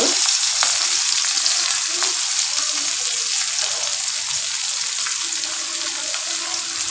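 Chopped onions and green chillies frying in a pan for a vegetable fish curry, giving a steady, fairly loud sizzle that runs unbroken for the whole stretch with no talking over it.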